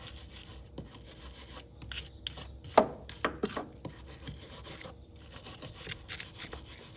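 A stainless steel bristle brush scrubs corrosion off a car battery outdoors on a driveway, giving bursts of harsh, scratchy rasping strokes in uneven rhythm, close and moderately loud.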